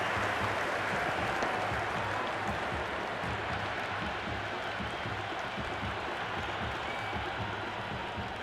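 A stadium crowd in a cricket video game, from an IPL match between Lucknow Super Giants and Chennai Super Kings, cheers and applauds as a dense, continuous roar that holds steady throughout.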